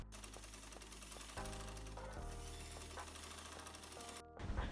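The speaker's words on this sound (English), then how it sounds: "I'm just going to follow the lines on the material we drew earlier and sew the dress." A sewing machine stitches shirring along drawn lines on fabric for a tube top, running in a fast, even mechanical chatter with a few brief pauses and shifts in speed, close up and alone.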